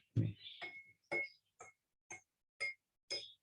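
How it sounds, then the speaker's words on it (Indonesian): A drinking glass struck repeatedly, giving seven bright ringing dings spaced about half a second apart, close and clear with short decays and no talking. "Nah, kita mendengar suara gelas dipukul ya"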